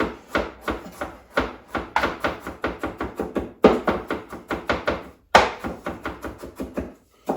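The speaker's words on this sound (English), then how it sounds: "chop up some tomatoes, chop them up really fine" Tomatoes being chopped finely with a knife on a cutting board, a steady run of quick, close, crisp knocks in bursts, pausing briefly between runs, with no talking.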